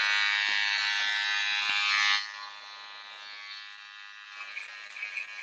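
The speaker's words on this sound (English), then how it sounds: "Remember, my clipper is all the way closed for most tension." An electric hair clipper, blade fully closed, hums and buzzes loudly and steadily while cutting bulk off a client's hair during a barbering lesson, then drops to a quieter, thinner whir for the rest.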